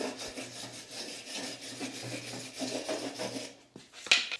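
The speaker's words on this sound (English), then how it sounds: "So I'm just going to go in there with a wire brush," Wire brush scrubbing rust out of a wheel spindle on an Ariens Ikon XD mower, a close rhythmic rasping scrape in steady strokes, ending with a couple of sharper knocks.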